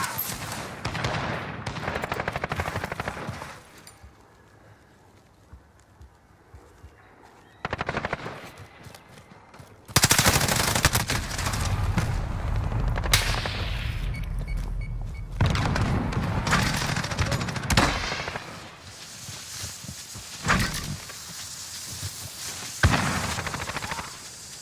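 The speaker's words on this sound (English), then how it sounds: "I'm taking fire." Video game gunfire roars in long, loud bursts of rapid machine-gun shots with booming impacts, broken by a quieter stretch of sparse shots before the heavy firing resumes, close and dense.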